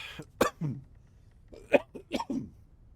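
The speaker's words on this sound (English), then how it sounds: "Now my character's coughing in the game" A character in the space game Starfield coughs in short, harsh bursts, one pair early and a tighter cluster of three later, with quiet gaps between.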